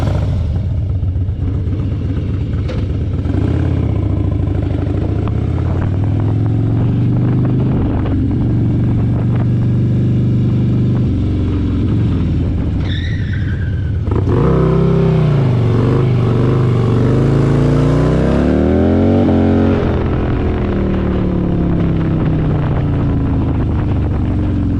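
Harley-Davidson motorcycle fitted with a ThunderMax tuner, its engine droning loud and close throughout, with a rising rev sweep mid-way and shifting throttle changes as it runs, with no talk.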